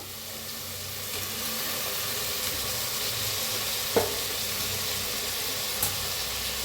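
Potato, carrot, tomato and curry leaves frying in a pan give a steady, even sizzle throughout, with a single soft clink of a utensil partway in.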